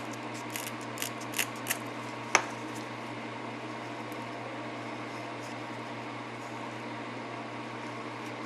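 Scissors trim a brush in a few quick, faint snips during the first couple of seconds, set against a steady low electrical hum that carries on alone afterward.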